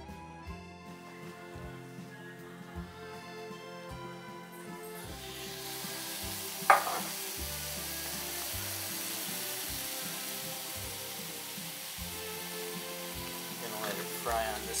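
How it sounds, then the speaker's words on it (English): Fish sizzles steadily in a pan, a continuous frying hiss that grows fuller after the first few seconds, with soft tonal background sounds running underneath throughout. "Fry on this side for a little while."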